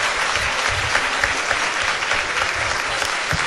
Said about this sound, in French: Je ne sais pas ce qui se passe, mais j'applaudis.